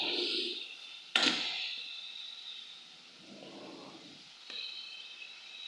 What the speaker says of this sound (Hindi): 2 से 3 मिनट के लिए हम अच्छी तरह से फ्राई